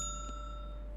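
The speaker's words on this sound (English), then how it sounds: "please ring the bell. Ring the bell, yes." A bell rings in a clinical trial video game, a single bright chime with sustained ringing overtones over a steady low hum, clear and fairly soft.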